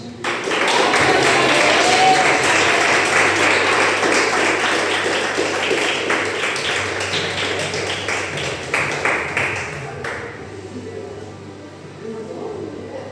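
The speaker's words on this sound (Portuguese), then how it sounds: "Aplauda o Senhor. Aplauda mais forte." A Christian congregation applauds loudly and steadily at a prayer service, then the clapping fades after about ten seconds, leaving a quieter room with a low hum and scattered claps.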